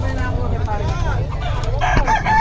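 A rooster crows loudly over a steady low rumble of background noise, with a few clucks around it.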